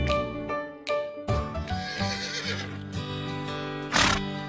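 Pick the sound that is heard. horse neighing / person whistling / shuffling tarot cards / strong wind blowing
horse neighing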